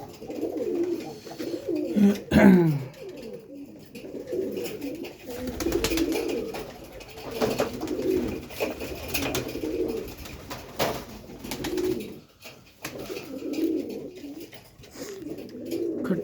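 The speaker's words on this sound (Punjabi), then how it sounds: "19 ਆਪਣੇ ਨਵੇਂ ਕਬੂਤਰ ਛੱਡਦੇ" Soft, repeated cooing of newly released pigeons over a low background hum, with faint voices murmuring in the distance now and then.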